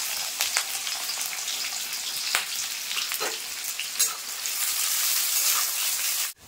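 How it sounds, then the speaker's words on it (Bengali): Sliced onions fry for beresta in white oil, giving a continuous close sizzle with scattered pops and crackles that grows denser toward the end before cutting off abruptly. "তো দেখো এই সাইডে বেরেস্তা ভাজা হতে থাক"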